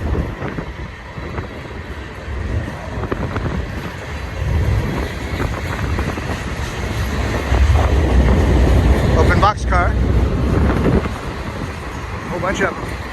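A BNSF freight train hauling grain hoppers rolls through Blue Cut at Cajon Pass, a steady broadband rumble and rail noise running throughout, with people talking over it.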